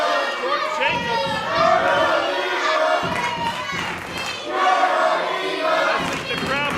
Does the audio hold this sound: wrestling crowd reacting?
yes